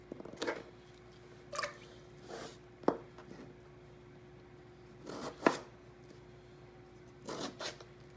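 A knife slices potatoes into planks for oven fries, a handful of sharp, close cuts on a board spaced a second or two apart, with quiet between strokes.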